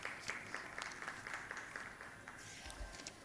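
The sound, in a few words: audience applause at Urdu conference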